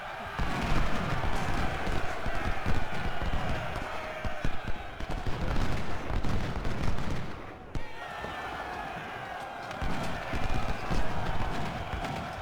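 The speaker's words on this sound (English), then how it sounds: "See if Crocker can shoot all 6 of his bullets." Soldiers fire volleys in Ultimate General Civil War, crackling musket shots mixed with drumming hoofbeats and battle noise, loud and continuous with a brief lull midway.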